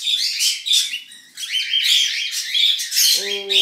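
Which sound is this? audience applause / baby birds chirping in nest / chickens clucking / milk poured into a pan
baby birds chirping in nest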